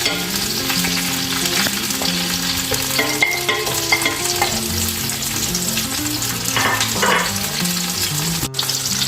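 Cut vegetables for aloo gobhi, including potato, cauliflower and tomato, fry in about half a cup of oil in a kadhai. A loud, close, continuous sizzle runs under intermittent stirring scrapes, with no voice.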